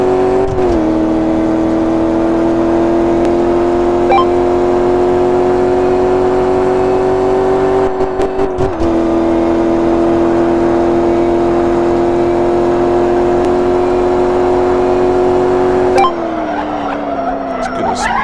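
A Maserati Sebring in the Car Mechanic Simulator 2015 video game accelerates down a drag strip, its engine droning in a long rising tone that holds loud and steady for many seconds before easing off near the end.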